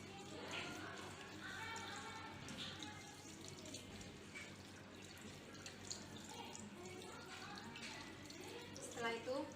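Running tap water splashing over hands being rinsed during a handwashing procedure, a faint, continuous trickle with small drips and splashes, no voices over it.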